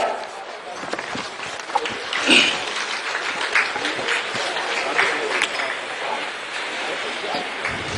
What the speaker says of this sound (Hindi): आप सभी उत्साहवर्धन हेतु इनके लिए तालियों का इनका करकर ध्वनि की आवाज आती रहनी चाहिए